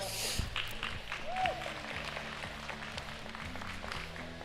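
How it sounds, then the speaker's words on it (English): Applause for a senior showmanship class at the Carstairs & District 4-H Show in Alberta: a steady wash of clapping from the audience, with a low crowd murmur underneath. "Let's give them a round of applause."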